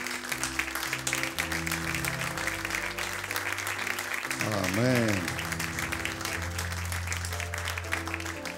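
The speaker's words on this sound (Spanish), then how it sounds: "Un aplauso cerrado para la esposa, la novia que viene entrando entonces." Steady applause from a wedding crowd as the bride enters continues throughout, mixed with music and a voice speaking over it.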